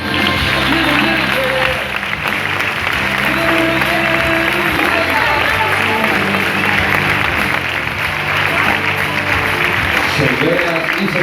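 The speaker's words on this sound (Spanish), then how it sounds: "Y nos despedimos con un fuerte aplauso del equipo de entrenadores y delfines." Audience at a dolphinarium show applauding trainers and dolphins, loud sustained clapping from a large crowd with cheering mixed in, continuous throughout with a brief dip near the start.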